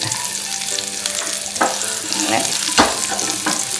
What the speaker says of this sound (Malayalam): ഇതിലേക്ക് നമുക്ക് ചെറിയ ഉള്ളി ചേർത്ത് കൊടുക്കാം.